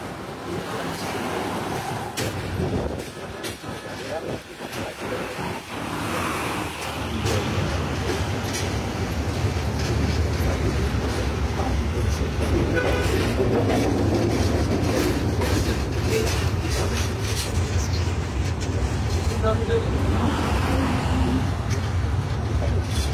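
Travelling slowly over the Jamuna bridge in fog, the Kurigram Express gives off a steady, loud, wind-like roar with faint wheel clicks, heard continuously from on board.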